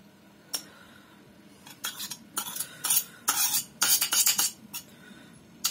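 A spoon stirs sticky natto, the fermented Japanese soybeans, in a bowl, giving a run of close scraping and clinking bursts that come in quick clusters, with no talking.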